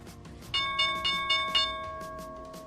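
The stock market opening bell rings in four quick, evenly spaced clangs that leave a bright, sustained metallic tone fading slowly afterward.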